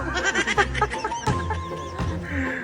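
A live turkey gives rapid, throaty clucks and gobbling bursts close by, mixed with people's chuckling and talk in the room.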